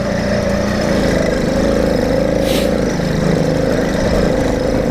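A motorcycle engine runs with the choke on, a loud, close, steady idle with an even mechanical drone holding throughout, with no talk over it.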